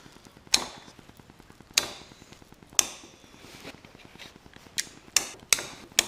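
Vice grips clamping and pressing rivets onto a climbing skin tail clip, heard as several sharp metallic clicks and snaps spaced irregularly over faint background ticking, close and fairly quiet.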